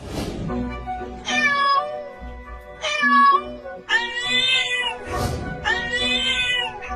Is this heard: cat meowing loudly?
yes